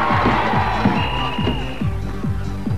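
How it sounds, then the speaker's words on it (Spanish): Stadium crowd cheering loudly for Argentine footballer Jorge Burruchaga, a dense roar with pulsing rhythmic chanting and drumming beneath it, steady and close throughout. "fuerte el aplauso para Jorge Burruchaga"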